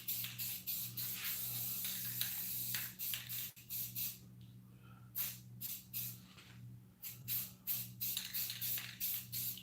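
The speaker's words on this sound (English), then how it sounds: "And this is white spray paint," White spray paint hisses from a can onto a Krampus mask in bursts, some long and some short, with pauses between them, close and fairly loud over a steady low hum.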